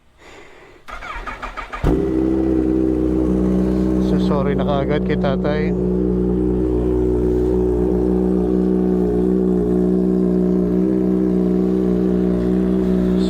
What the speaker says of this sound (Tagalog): So cold start tayo ng Kawasaki ZH2